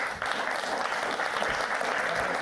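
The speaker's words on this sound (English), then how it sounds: "Let's give Dr. Fei a big round of applause" An audience applauds a keynote on AI and design thinking at a conference, with dense, steady clapping filling the room.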